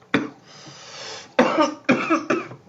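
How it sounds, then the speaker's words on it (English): Four harsh, close coughs: a single cough, a pause, then three in quick succession. "I didn't mean to cough, but then I had to"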